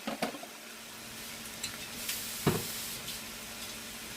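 Okra succotash with shrimp and sausage sizzles quietly in a pan, a soft steady hiss broken by a few clinks and scrapes of stirring.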